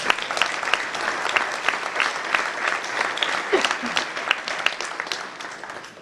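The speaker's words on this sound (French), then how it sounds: "Merci d'applaudir Nima Alamian." Steady audience applause fills the hall at a table tennis team match as a player is introduced, sustained clapping from a crowd that tapers slightly toward the end.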